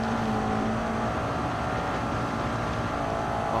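Toyota MR2 engine in the GT Sport racing game, a loud steady drone that holds a tone and then drops as the car shifts into third gear.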